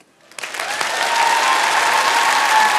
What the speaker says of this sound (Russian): заводит аплодисменты